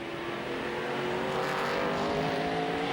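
Race cars in a Speed Car Series event roar past in a loud, continuous engine drone with a slight rise in pitch partway through and no voices.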